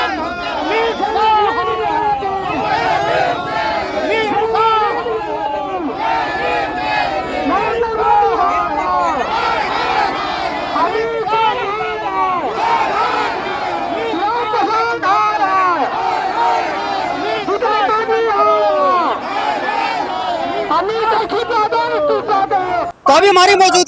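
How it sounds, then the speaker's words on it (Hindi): A protest march crowd chants loudly and continuously against Amit Shah in Sherghati, Gaya district, with rhythmic shouted slogans from many voices and a dense babble throughout. "अमित शाह के बयान को लेकर के जो है से आक्रोश मार्च यहाँ पे निकाले हुए हैं।"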